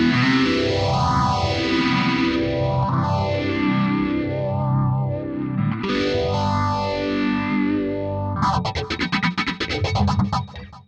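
Sustained electric guitar chords through a Boss GX-10 multi-effects unit's phaser, the tone whooshing up and down in slow repeating cycles before ending in quick strummed stabs.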